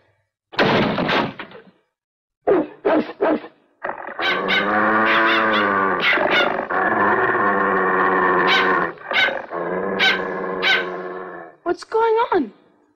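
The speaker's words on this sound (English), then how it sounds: "Your vicious dog attacked us." A dog in a children's adventure series set in the mountains growls and snarls, sustained and loud, with sharp barks scattered before and after.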